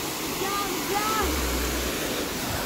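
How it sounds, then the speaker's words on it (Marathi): A waterfall near Patgaon in the Konkan rain, a broad steady rushing roar heard from close by, with faint voices and a short low rumble partway through. "वॉटरफॉल बघा तुम्ही आता"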